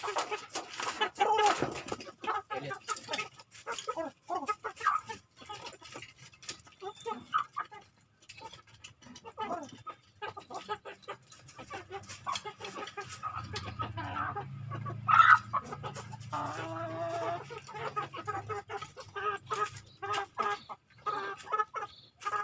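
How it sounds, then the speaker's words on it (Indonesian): Chickens cluck repeatedly at close range in a free-range garden, with scattered squawks and rustling, and a low hum rising in the middle. "Ini ayam pertama yang saya beli teman-teman."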